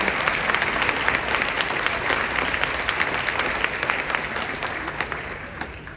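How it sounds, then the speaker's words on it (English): A crowd at a county chorus concert applauds the teachers with sustained, dense clapping, loud and even at first and tapering slightly toward the end, with distinct individual claps popping through. "can we give our teachers a round of applause for all the extra work they put in this weekend?"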